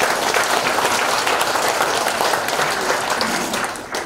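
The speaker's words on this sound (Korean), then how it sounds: "큰 격려의 박수 부탁드리겠습니다" Sustained, loud applause from an assembled crowd of party members at a launch ceremony, honoring two council members who read a resolution aloud; steady dense clapping that fades slightly at the end.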